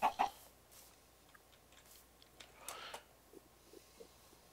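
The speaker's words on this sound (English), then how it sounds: "There's a chicken over here where we are." A chicken in the Minecraft Better Than Wolves mod gives two quick clucks at the start, followed by faint scattered game sounds and soft rustles at low volume.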